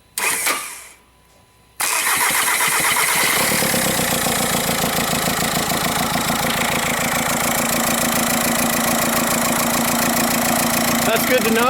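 A 2006 Volkswagen Jetta TDI diesel, with voltage jumped straight to the starter, gives a brief cranking burst, pauses, then fires and settles into a loud, steady, clattering idle close by.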